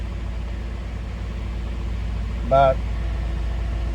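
A misfiring Toyota engine idles with a steady low drone and an uneven, stumbling undertone. A voice speaks briefly partway through.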